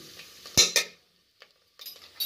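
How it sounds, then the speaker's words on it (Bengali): A metal spoon scrapes and clinks in a pan over low heat while paneer butter pulao ingredients fry with ground black pepper. It gives two sharp close knocks, a brief near-silence, then more soft scraping. "আমি ধিমি আঁচে ভাজছি, আর ভাজতে ভাজতে এটা হচ্ছে গোলমরিচের গুঁড়ো আমি দিলাম"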